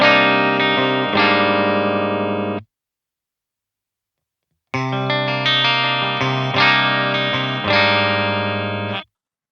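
Distorted electric guitar played through a Synergy DRECT Mini Rectifier preamp rings out in sustained chords, one phrase then a pause of silence, then a longer run of chords ending abruptly.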